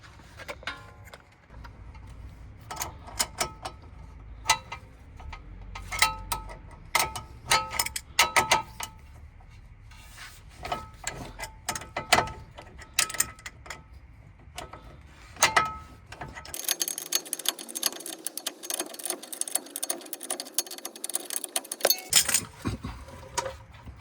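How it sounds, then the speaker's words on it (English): Wrenches work a tie rod nut on a 2011-2019 Ford Explorer, giving close metallic clicks, ratcheting ticks and clinks in an irregular run, then a denser stretch of rapid rattling spinning near the end, with no voices. "grab a second wrench, put it on the top so we can spin that bottom one"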